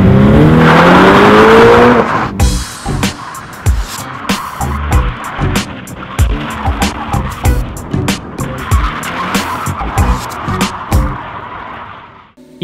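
A tiny EFI V10 model engine revs with rising whines at first, then runs in rough, choppy bursts and sharp pops that stay close and loud before cutting off at the end.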